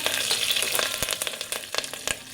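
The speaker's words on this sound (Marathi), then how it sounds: "त्यानंतर कढीपत्ता घालायचा" Curry leaves sizzle in hot oil with ginger-garlic paste, a bright crackling hiss punctuated by sharp spitting pops, close and continuous with no talking.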